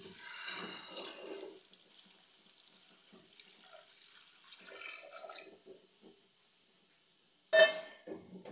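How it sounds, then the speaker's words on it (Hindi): Water splashes and pours over chicken in a pot while making Punjabi chicken pulao, in two bursts separated by quiet gaps, ending with a sharp closer splash. "और यहाँ पे मैं इतना पानी डाल दूँगी कि जो हमारा चिकन है वो अच्छी तरह से भीग जाए।"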